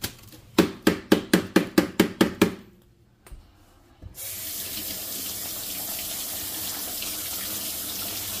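A coffee pot washed by hand at a sink gives a run of quick rhythmic clinks and taps, then a brief pause before a tap opens and water runs steadily and loudly for the rest.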